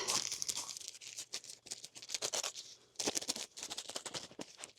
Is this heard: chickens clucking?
no